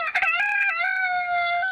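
A rooster crows once, a loud drawn-out cock-a-doodle-doo that opens with choppy notes and settles into a long sustained call, close and alone with no talk.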